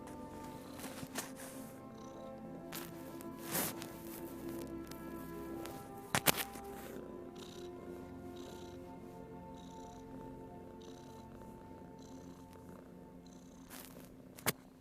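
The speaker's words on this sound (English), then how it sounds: "I got a little white kitten in my lap right now, purring like a machine." A little white kitten purrs in someone's lap, a soft continuous close-miked rumble with a few faint bumps and clicks of movement scattered through.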